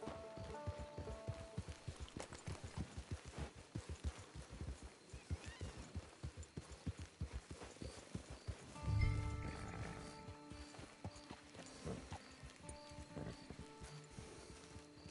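Horse hooves clip-clop steadily on the ground in the online beta of Red Dead Redemption, a fast, even rhythm of hoof strikes that runs through the whole stretch, with a brief louder thump partway along and a faint rainy hiss underneath.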